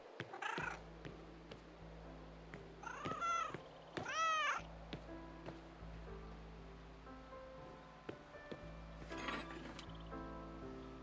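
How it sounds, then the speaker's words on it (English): A cat meows several times in the post-apocalyptic video game Broken Roads, short rising and falling cries spaced across the clip over a steady low ambient hum and soft surf-like background wash. "Come here, cat."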